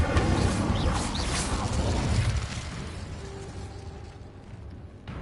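The Incendio fire spell is cast in Hogwarts Legacy, a loud whooshing burst of flame that roars broadly and then slowly fades into a softer rushing hiss.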